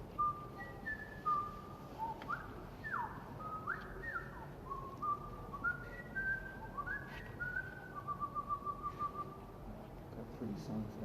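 A person whistles an imitation of little birds' songs, a string of short rising and falling tonal phrases ending in a rapid trill, fairly faint over a steady low background rumble.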